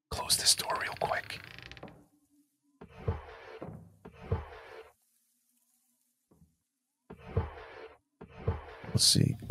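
A door creaks shut in the horror video game Labyrinthine, with a short creaking, mechanical burst at the start. Scattered muffled thuds and noises follow, separated by silent gaps.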